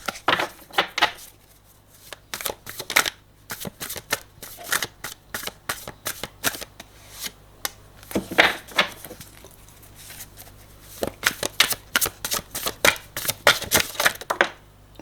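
Playing cards shuffled repeatedly for a tarot-style card reading, a steady run of crisp riffling bursts and soft clicks, close and fairly quiet, with no talking.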